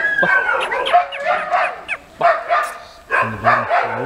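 A Kanni, a tall native Tamil hunting dog, gives several sharp barks and yips in quick succession, loud and close, with short gaps between bursts and a whining tone at the end.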